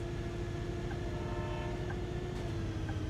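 A bus horn sounds in the driving game Bus Simulator 18, a sustained steady tone lasting the whole few seconds over the rumble of the engine, with no talking.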